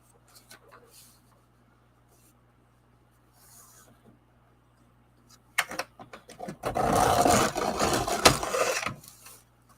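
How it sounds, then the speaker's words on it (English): A paper trimmer slices across card stock, a few soft scrapes and taps giving way to a louder, rough rasping cut in the last few seconds. "In comes the trimmer."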